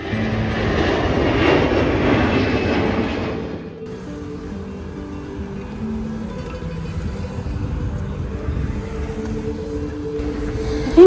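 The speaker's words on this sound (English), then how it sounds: "Just saw a couple of planes taking off so close." Fixed-wing airplanes take off close by near Santiago de Compostela airport, their engine roar loud and broad at first, then easing into a steady lower drone that carries on to the end.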